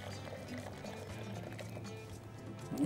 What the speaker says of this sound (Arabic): هنعمل كده ونحط ميه مغليه